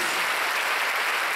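A congregation claps for Jesus at a religious gathering with prisoners' families, giving a short burst of dense, steady applause with no break.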